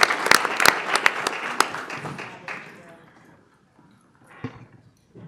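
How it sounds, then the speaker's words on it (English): Applause at a Board of Education meeting: a brief burst of loud, sharp, close claps from a few people that fades within a few seconds into quiet, with a little talk and a soft clap or two after. "One more round of applause."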